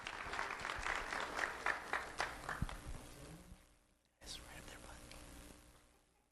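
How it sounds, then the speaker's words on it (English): A small audience applauding two honored fourth-grade students, a few seconds of loose clapping that fades out, followed by a quieter stretch of murmuring voices and faint room noise. "Let's have a round of applause for John Vargas Martinez and Edward Baez"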